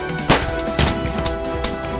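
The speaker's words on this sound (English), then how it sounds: "A single gunshot resounded through the hallway" A single gunshot fires in the Angels with Scaly Wings visual novel, a sharp loud crack followed by a second sharp impact under a game music bed.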